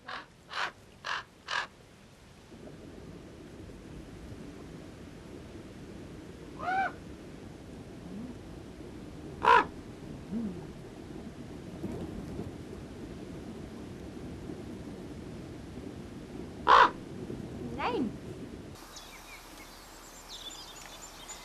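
Ravens calling in an alpine valley, a quick trio of hoarse croaks followed by scattered single caws at varying distances over a soft outdoor background hush.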